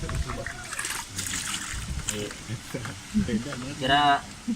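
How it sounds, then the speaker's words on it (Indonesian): During ritual washing of a corpse, water is poured and splashes in short trickling bursts, close by, interleaved with a man's speech. "Saya ambil gosok, saya siram terus."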